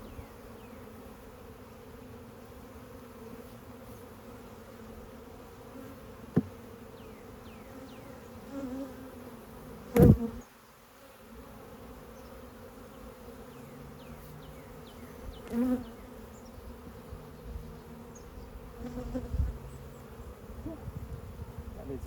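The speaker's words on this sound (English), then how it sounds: "that is a packed beehive." Honeybees hum steadily throughout a packed beehive opened during a hive inspection, a soft continuous buzz with a few sharp knocks and bumps from handling the frames.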